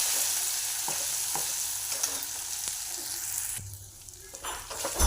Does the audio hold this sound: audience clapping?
no